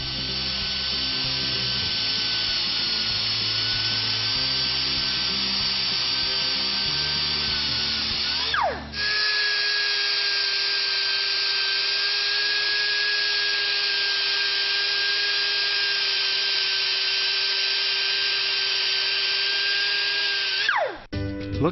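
A power tool applies a swirl-pattern cut to a brake rotor during a complete brake job, giving a loud, steady whirring grind with a sustained high tone. It dips briefly near the middle, runs on, and cuts off again at the end.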